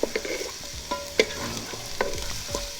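Garlic cloves, half a medium onion and two sprigs of rosemary sautéing in a Ninja Foodi, with a steady sizzle broken by a few sharp utensil knocks and scraping stirs against the pot.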